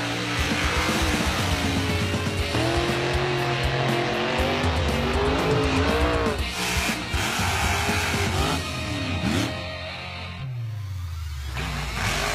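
A Grave Digger monster truck spins donuts, its engine revving hard with squealing tires, loud and continuous before dropping away near the end.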